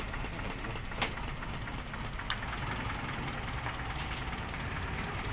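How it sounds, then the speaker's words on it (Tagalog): An owner-type jeep engine idles steadily at close range, a constant low rumble with faint ticking clicks on top and no voices. "Ayan, tingnan natin yung makina."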